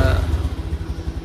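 A motorcycle engine, freshly back in running order after a starter repair, idles close by in a steady, loud, throbbing rhythm with a slight rattle.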